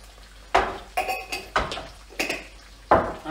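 Frying potatoes stirred in a pan with a utensil, a few clanging scrapes and knocks against the metal spaced at irregular intervals, close and fairly loud with no talking.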